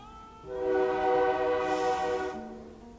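Train passing with a sustained horn blast, a loud multi-tone chord that swells in and holds for about two seconds before dropping to a lower tone as it fades, over a steady rumbling rail background.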